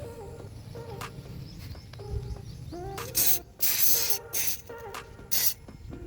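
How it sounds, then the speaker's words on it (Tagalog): Several short bursts of asphalt remover aerosol sprayed onto an Isuzu Traviz, each a second or less, with a low rumbling background and faint tonal chirps between them. "ito na guys i-spray na natin"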